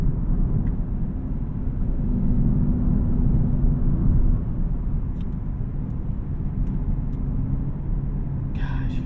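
A 2024 Lexus IS500 F Sport V8 on a back road, heard from inside the cabin as a steady low engine rumble with road and wind noise, continuous and unbroken throughout.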